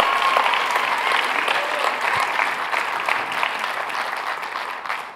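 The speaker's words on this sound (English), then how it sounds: "If you love Jesus, give Him the biggest round of applause you've given Him all morning" A church congregation applauds with steady, dense clapping that continues loudly throughout and eases slightly toward the end.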